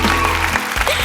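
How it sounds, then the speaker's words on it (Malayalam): A stage audience at a singing-show grand finale bursts into loud, continuous applause, with music and voices blending into the dense clapping. "എന്നൊരു വലിയ കൈയടി"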